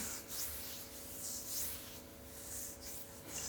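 A spoon scrapes spices and ground black pepper around a pan for chickpea curry, a soft continuous rubbing and scraping that stays quiet and close.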